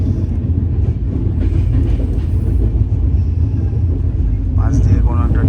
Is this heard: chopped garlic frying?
no